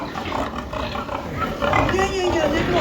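Hampshire-Yorkshire cross pigs grunt and squeal in low, rough bursts close by, with a person talking over them and louder animal noise building toward the end.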